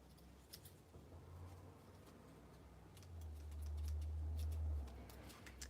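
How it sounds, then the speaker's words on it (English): Dull scissors cutting a long piece of string or paper during a journaling craft session, giving a few faint, rough snips and a longer dragging low crunch near the middle, close by and quiet with no talking. "My scissors are so dull."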